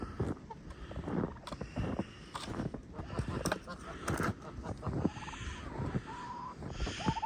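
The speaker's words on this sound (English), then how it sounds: "So right now I have 1 light Brahma rooster, 2 light Brahma hens, and 13 Jersey Giant chickens of mixed" Light Brahma and Jersey Giant chickens, a rooster and hens among them, call and cluck in a winter farm run, with scattered squawks and bird noises rising over steady background noise and some talking.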